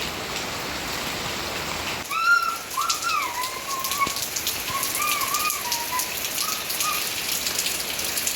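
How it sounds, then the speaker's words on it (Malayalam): Steady rain falls in a dense hiss throughout, with a bird whistling a few slurred notes over it after the first couple of seconds. "സത്യം പറഞ്ഞാൽ ഈ മഴ പെയ്യുമ്പോൾ ഒടുക്കത്ത മടിയാണ്"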